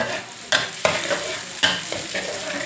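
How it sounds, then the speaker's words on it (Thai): Garlic stir-fries in a hot pan while a grilled stingray stir-fry is being cooked, giving a steady sizzle with a few sharp scraping stirs of the spatula. "ผัดกระเทียมให้หอมนะคะ"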